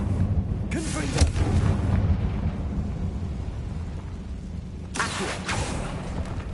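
Confringo fire spell blasting in Hogwarts Legacy: two loud booming bursts with a crackling tail land a few seconds apart over a low rumbling ambience, and a voice speaks in between.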